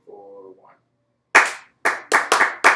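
Hands clap out a rhythm of five sharp, close claps in an uneven pattern, preceded by a brief spoken count.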